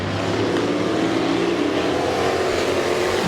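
Street stock race cars roaring around the oval at Midvale Speedway, a dense, steady wash of engine noise from several cars without letup, with an announcer's voice faintly beneath.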